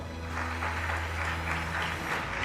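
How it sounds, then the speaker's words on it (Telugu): Steady crowd applause at a religious gathering fills the whole stretch, a dense wash of clapping over a constant low hum, with no talking on top. "గట్టిగా చప్పట్లు కొట్టండి ఒకసారి"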